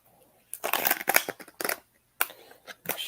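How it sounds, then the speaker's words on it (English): Crisp bursts of a tarot card deck being shuffled, several quick riffles in a row with short pauses between them, close and fairly loud. "Let me shuffle my deck for you."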